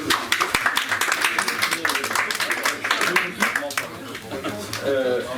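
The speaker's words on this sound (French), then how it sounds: "On va l'applaudir." A debate audience on a barge venue gives brief applause, scattered sharp claps at the start thinning out as voices and chatter take over toward the end.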